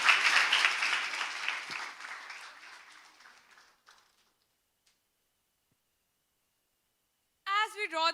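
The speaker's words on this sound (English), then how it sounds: "Let us rise and offer a thunderous round of applause to honor every individual who contributed to this remarkable journey." A school audience at student TED-Ed talks breaks into loud applause that fades gradually over about four seconds into near silence, then a voice starts speaking near the end.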